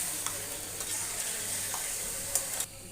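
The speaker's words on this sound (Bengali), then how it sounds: "মাছটা নেড়ে চেড়ে কষিয়ে নেব।" Pieces of catla fish are stirred in a pan of frying spices, giving a close, steady sizzle broken by soft stirring scrapes.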